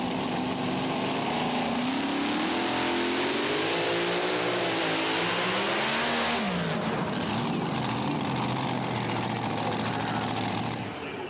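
Supercharged 575-cubic-inch mini rod pulling vehicle at a tractor pulling event, its engine roaring loudly and revving up and down in wavering pitch before cutting off abruptly, near and sustained.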